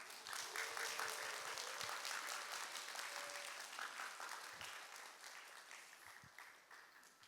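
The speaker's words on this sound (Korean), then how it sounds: "우리 목사님 나오실 때 큰 박수로 맞아주시기 바랍니다" A church congregation at a Monday intercessory prayer meeting applauds to welcome a pastor to the front, dense sustained clapping filling the room and slowly tapering off.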